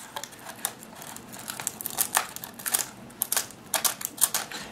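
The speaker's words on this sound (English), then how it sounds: "Then just take your fingernail and kind of peel that out of there." Foam wing covering on a micro model plane is peeled away with a fingernail, producing a run of dry, irregular crackling ticks and crinkles that come close up and quicken toward the end, with no voices.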